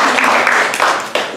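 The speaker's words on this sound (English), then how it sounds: "She wanted to clap for that." Applause and clapping from a small audience fill the space, a steady wash of claps that dips briefly near the end and picks back up.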